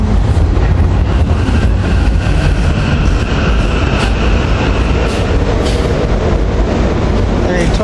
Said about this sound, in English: Silverliner 5 rail cars 811, 812, and 732